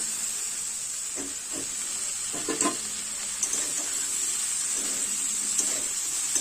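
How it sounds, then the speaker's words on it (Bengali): Malabar spinach stems, potato and fish head frying together for a village-style chorchori curry, a continuous hiss and sizzle broken by several scraping stirs and light clinks, no speech. "বারবার নাড়াচাড়া করে কিন্তু এই পুঁই বিটুলি মাছের মাথার চচ্চড়ি রেডি করে নেবো"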